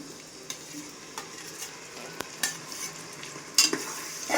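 Chillies and curry leaves frying and being stirred in a pan, a steady sizzle broken by irregular scrapes and taps of the spatula against the metal, close and with no talking.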